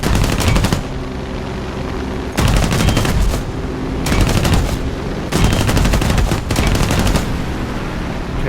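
War Thunder aircraft gunfire, in a P-63A-10 fighter, rattles out in four loud, sustained machine-gun bursts separated by short pauses of engine drone.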